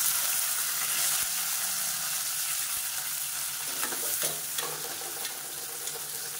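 Halved small shallots frying and being stirred in a pan for Madurai-style mutton curry, a steady bright sizzle with occasional scraping stirs, close and continuous without speech.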